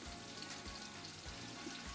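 Bay leaf and salt sizzling in hot oil in a pan, a soft steady frying crackle with small pops, fairly quiet and heard without talk.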